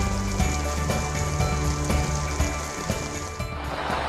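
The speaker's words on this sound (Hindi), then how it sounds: "इस वक्त झमाझम बारिश का सिलसिला जो है वो जारी है।" Heavy monsoon rain pours over Mandi House in Delhi, a dense, steady wash of downpour that holds loud and unbroken the whole time, with no voices over it.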